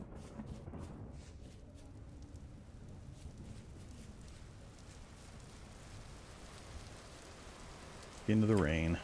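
Steady rain patters across the landscape in the Vintage Story survival game, a dense continuous hiss throughout, with a voice briefly talking at the very end.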